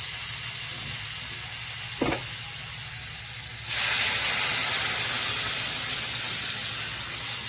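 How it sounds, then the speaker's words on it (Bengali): Hot water poured into fried, well-cooked spice paste for rui fish curry, bursting into a loud steady sizzle and hiss partway through after a brief splash, continuing strongly to the end. "এরপর আমি এর মধ্যে গরম জলটা দিয়ে দেবো"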